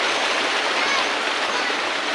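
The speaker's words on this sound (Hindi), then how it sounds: "तो ये चल रहा है पानी हमारे यहाँ, ये है हौदा" Irrigation water pouring steadily from an outlet tank into a farm field in the morning, a continuous close, loud rushing wash with no breaks.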